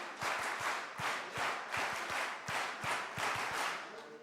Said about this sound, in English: Let's try the clap once again